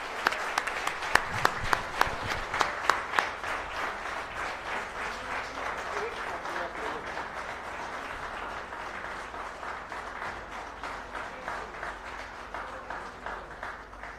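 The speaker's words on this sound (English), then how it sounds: "So a huge round of applause I would request to each one of you." An audience at a national geology seminar breaks into sustained applause, many hands clapping steadily in a hall for well over ten seconds.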